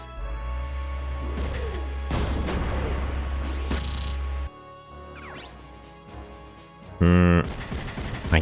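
Gunfire from mechs in Front Mission 3, a burst of rapid crashing shots over a low engine drone, followed after a pause by a loud, buzzing burst of fire near the end.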